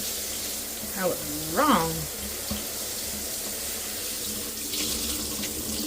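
Tap water runs steadily, rinsing a K&N air filter, a constant close hiss with small splashing changes as someone speaks briefly over it.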